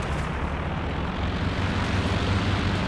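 An aircraft making an anti-tank attack run in a strategy game, a steady roaring rumble of engine noise and explosions, loud and unbroken throughout.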